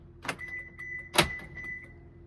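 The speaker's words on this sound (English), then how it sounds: "double tap to unlock all the doors" Two quick mechanical clunks of Lexus LX470 door locks unlocking, about a second apart, close and crisp over a low steady hum.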